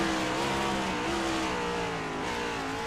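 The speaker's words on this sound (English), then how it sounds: "You hear him downshift the first." A race car in iRacing at Sonoma, shown as a steady engine drone whose pitch steps up briefly with each blip as it works down through the gears, loud and close throughout.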